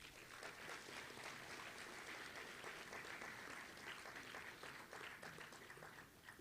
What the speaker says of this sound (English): Students, please give your parents, sponsors, and teachers a warm round of applause.